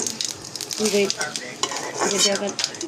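Bay leaf, cumin and cinnamon tempering in hot oil for taro greens, a steady close sizzle with scraping stirs and light clinks of a utensil against the pan, no talking.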